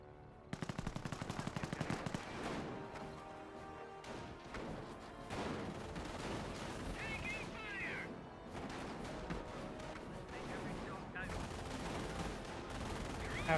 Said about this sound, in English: Half track firing away over here. Hedge squad against repairs there. Mortar hit onto the infantry section.